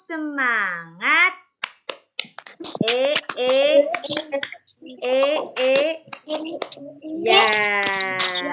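Schoolchildren perform a rhythmic clapping chant in class, sharp hand claps falling in a patterned beat between sung and spoken group phrases, close and clear.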